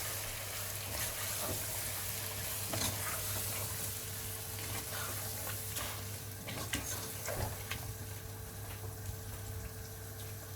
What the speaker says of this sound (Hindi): अब मैं इसको अच्छी तरह मिक्स कर लूँगी।